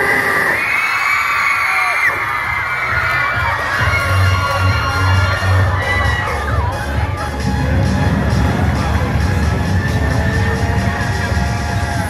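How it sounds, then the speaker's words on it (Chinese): A large crowd of high school students screams and cheers loudly and continuously at a school song contest, with shrill shouts and whoops rising over a dense roar of voices. "尖叫声！"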